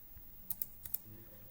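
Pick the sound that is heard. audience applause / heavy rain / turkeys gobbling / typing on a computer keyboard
typing on a computer keyboard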